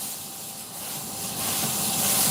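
A steam wand purge on a La Pavoni lever espresso machine fitted with a purge upgrade gives a steady, loud hiss of steam that builds in strength over a couple of seconds, heard alone up close.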